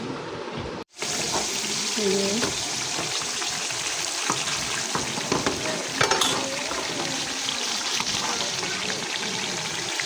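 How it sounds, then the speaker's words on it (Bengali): Oil sizzles and crackles steadily in a pan, a continuous bright hiss with small pops, close by, after a brief silence at the start. "তেল বলকাইতেছে"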